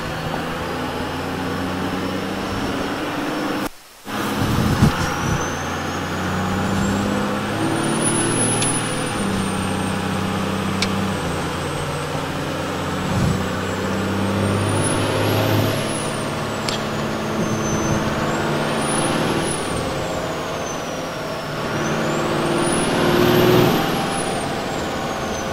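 Turbocharged car engine running on a dyno at 25 psi of boost, a loud steady drone with a high turbo whine that repeatedly rises and falls as the throttle is worked, briefly cutting out once early on.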